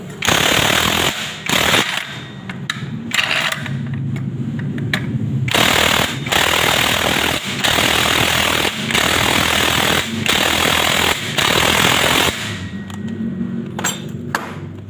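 Pneumatic impact wrench tightening the front pulley nut on a Yamaha Aerox/NMAX scooter, long loud rattling bursts of rapid hammering separated by short pauses, very close and without talk.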